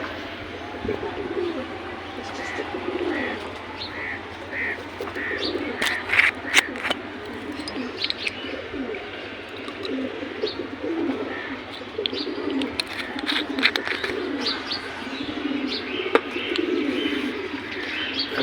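Pigeons cooing steadily nearby, low rolling coos repeated over and over with occasional chirps and a few sharp clicks or knocks, no voices.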